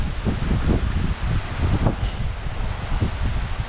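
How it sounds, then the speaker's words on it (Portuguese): Wind gusting outdoors at a construction site where a pig pen is being built from pallets, a steady rough roar with buffeting low rumbles across the microphone, continuous and close. "Olha o vento que tá aqui."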